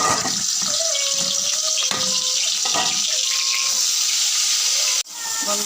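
Fish heads rubbed with turmeric and salt sizzle in hot oil in a wok: a loud, steady frying hiss runs throughout, with a voice talking faintly over it and a brief dip near the end.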